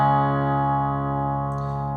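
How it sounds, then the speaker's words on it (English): Electric guitar plays the opening riff of a song, sustained harmonic chords ringing steadily and closely miked, alone with no talk. "And then that's the intro riff."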